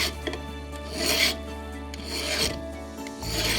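Hand file smoothing a bevel on a small tapered pin for a clock movement, held in a pin vise: close, repeated rasping strokes in an uneven rhythm, with no voices.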